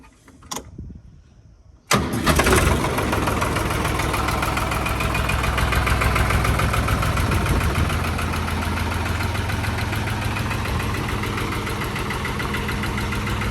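A 2009 New Holland 5500 two-speed tractor engine starts up after a brief pause and settles into a steady, loud, close diesel idle with a continuous chugging rumble.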